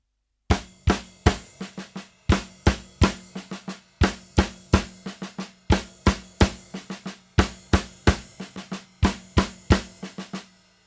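Drum rudiment of triple blushdas with three flams per group, played as crisp sharp strokes in steady repeating clusters, each flam a doubled hit, loud and close with no talking.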